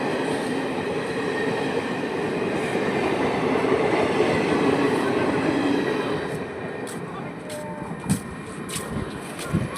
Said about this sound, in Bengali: এটাই হচ্ছে ভারতের ট্রেন।